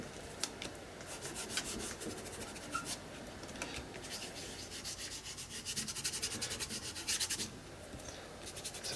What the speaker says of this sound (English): So just rubbing